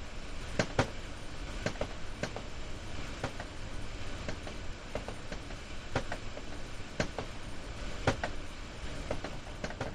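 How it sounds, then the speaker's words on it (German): A BR422 electric commuter train in the Rhein-Ruhr area of the game Train Sim World 2020 rolls along steadily, rumbling with regular sharp clicks from wheels crossing rail joints. "Sie fahren derzeit einen Elektrotriebzug BR422."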